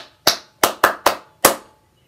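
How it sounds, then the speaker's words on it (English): Young children clap for their parents during a kids' class. Five separate sharp claps fall in an uneven rhythm, close and clear, with silence between them. "Are we going to clap for our moms and dads for looking after us?"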